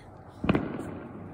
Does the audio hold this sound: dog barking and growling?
no